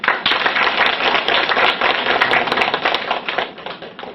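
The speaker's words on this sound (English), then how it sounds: "Now, the big round of applause to all of you" Audience clapping at a 2011 session with Ramachandra Guruji and Dr. V. Hari Kumar: close, loud, somewhat sparse hand claps forming an uneven round that thins out toward the end.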